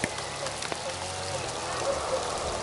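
Rain patters steadily over a fishing spot with occasional hail, a constant close hiss of drops on the surfaces around the anglers, with low voices faintly underneath.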